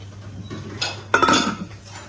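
Metal lid set onto a cooking pot: a light clink followed by a louder clattering settle, close by over a low steady hum.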